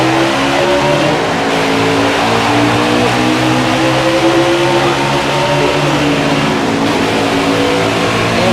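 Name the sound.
race cars racing on track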